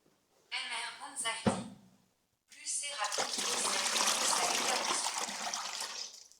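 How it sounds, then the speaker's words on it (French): Water is poured into a bucket while mixing floor levelling compound: a brief splashy pour, a pause, then a longer, steady, loud rush of water filling the bucket, with no voices. "Donc on commence par mettre l'eau."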